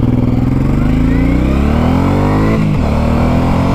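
A Suzuki M109R motorcycle engine revs and accelerates up close, loud and throaty, pitch climbing steadily over a few seconds, then dropping sharply as the throttle rolls off.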